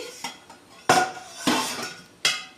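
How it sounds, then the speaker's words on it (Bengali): A metal lid lifted off a pan where sweet palm-fruit fritters have been steaming on a plate over a gas flame: several sharp metallic clinks and clatters, close and fairly loud, with quiet pauses between them and no talking. "5-6 মিনিট হয়ে গেছে, আমি ঢাকনাটা খুলছি।"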